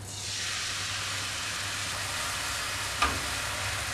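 Grated coconut fries dry in a pan and is stirred, making a steady, even sizzle and hiss with a single soft knock near the end and no talking.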